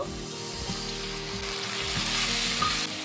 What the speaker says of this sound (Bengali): পেঁয়াজটা ভাজা হয়ে গেছে, এখন আমি আদা রসুনের পেস্টটা দিয়ে দেব